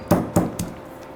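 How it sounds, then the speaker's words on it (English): Three or four garlic cloves are pounded in a pestle and mortar, giving three quick, close, dull knocks that fade over about a second. "I'm going to be pounding some garlic, 3 to 4 cloves of garlic in my pestle and mortar"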